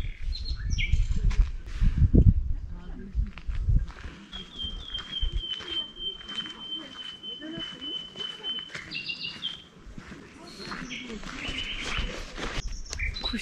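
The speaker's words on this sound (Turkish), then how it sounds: "Kuşlar var ya çıldırmış gibi ötüyorlar" Birds chirp and sing busily around a large plane tree in a rural village, with a sustained whistling note among varied calls, light footsteps and a few background voices.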